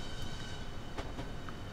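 A train rolls into Stratford International platform 3 in Train Simulator 2014, a steady low rumble of wheels and motor with faint clicks and a brief squeal near the end.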